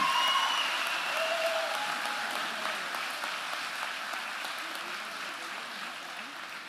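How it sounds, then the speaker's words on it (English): Graduation ceremony audience applauding the class of 2023, a dense sustained wash of many hands clapping in a large venue, steady and slowly fading over several seconds. "How about a round of applause for the graduating class of 2023?"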